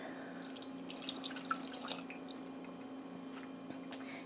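Evaporated milk pours into a pan of packed light brown sugar and a pinch of salt for pecan pralines, a soft, quiet liquid splashing and dripping in short bursts over a steady low kitchen hum.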